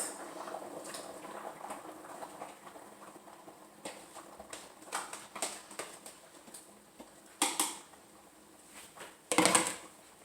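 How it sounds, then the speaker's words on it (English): Chicken gnocchi soup boils hard in a pot, giving irregular close-up bubbling and popping with a few louder bursts of splashing over a soft simmering background. "The soup is boiling pretty heavily."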